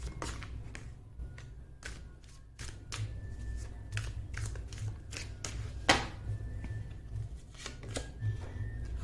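Tarot cards being drawn and laid out from a deck by hand, soft quiet card flicks and slides in irregular bursts, with a few sharper snaps, close and faint, no talking.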